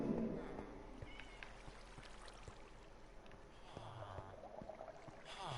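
Minecraft cat meowing in a blocky game world, a couple of faint mews over a low background of water and ambient game sound.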